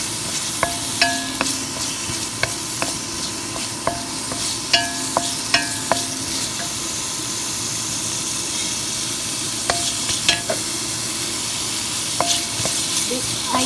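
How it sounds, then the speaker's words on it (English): Shiitake mushrooms sauté in sauce in a skillet for yakisoba, giving a steady close sizzle with scattered clinks and scrapes of stirring throughout. "I use this skillet to saute the shiitake mushroom."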